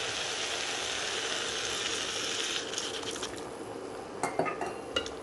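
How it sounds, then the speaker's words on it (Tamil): Boiled chickpeas being lightly mashed into thick masala gravy in a pan, a steady soft bubbling hiss with a few sharp spoon clinks toward the end. "லேசாக ஒன்று ரெண்டு மட்டும் இப்படி மசிச்சு விட்டுக்கோங்க."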